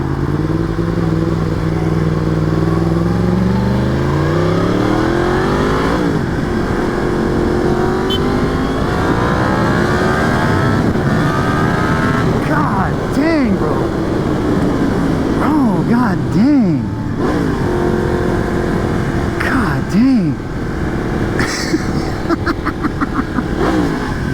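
A Yamaha FZ-10 motorcycle engine revs hard and loud up close, rising and falling through repeated throttle blips and gear changes over the full stretch, with a passing exclamation mixed in.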